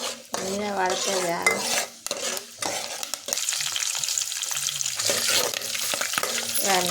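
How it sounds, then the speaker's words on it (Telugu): Curry leaves, green chilies, urad dal and chana dal sizzling in hot oil for a tempering, with steady frying crackle, stirring and metal utensil clinks; a brief voice and pot scrapes appear early, then a continuous sizzle. "ఇవన్నీ తాలింపుకి వేసిందండి"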